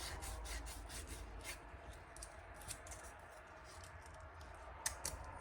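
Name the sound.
rubbing a shaft burr with emery cloth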